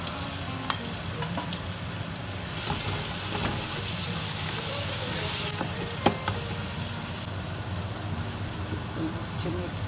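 Kurma powder paste mixed with water sizzles and fries with mutton in a pan while being stirred, a continuous close sizzle with occasional clinks and scrapes of the spoon.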